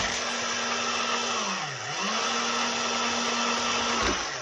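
An electric embossing machine feeds a handmade card through an embossing folder, giving a continuous close motor drone whose pitch dips briefly as the card loads, then steadies before dropping again near the end.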